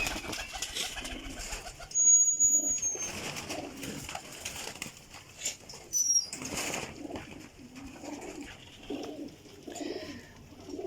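Desi pigeons coo in low, soft murmurs close by, with sudden loud bursts of wing flapping as birds take off and settle among the pigeon lofts.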